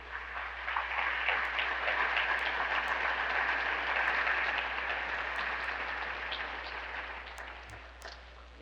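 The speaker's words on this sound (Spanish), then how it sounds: "Dale un aplauso al Señor, pues." Church congregation applauding, a dense, steady wash of many clapping hands that holds strong, then gradually thins and fades toward the end.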